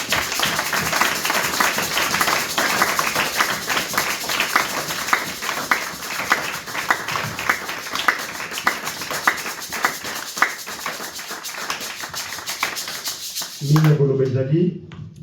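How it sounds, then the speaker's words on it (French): A church congregation applauds loudly at a thanksgiving service, a dense, sustained wash of clapping that runs steadily for most of the stretch before cutting off abruptly near the end. "applaudis très fort pour la gloire de Dieu"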